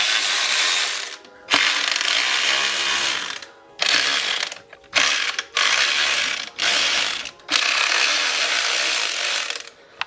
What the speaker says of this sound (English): use my 1/4 inch electric ratchet